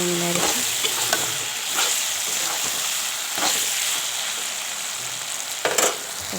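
Eggplant frying in a pan with oil sizzling steadily throughout, broken by several distinct scraping stirs of a spatula, with no talking.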